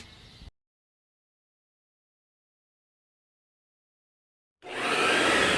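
Vacuum cleaner running in a radio advertisement for a vacuum store, heard as a loud, steady broadband roar that starts abruptly after a brief burst of sound and a few seconds of silence.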